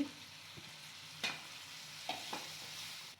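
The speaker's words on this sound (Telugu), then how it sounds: "ఇప్పుడు ఇందులోకి తెల్లుల్లి కూడా వేసేసుకొని జస్ట్ ఒక టూ మినిట్స్ అలా ఫ్రై చేయండి" Onions, garlic and tomato pieces frying in a pan for a cluster bean curry give off a steady, soft close sizzle, with a few scraping stir strokes and no voices.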